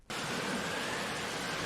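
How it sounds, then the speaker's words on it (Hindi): Steady jungle rain, a dense, even hiss of falling water that starts abruptly and holds at constant loudness with no voices. "बहुत दिनों से बारिश हो रही थी"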